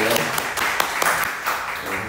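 A church congregation clapping for a birthday during a Sunday service, a short dense burst of applause with individual sharp claps standing out, close and fairly loud.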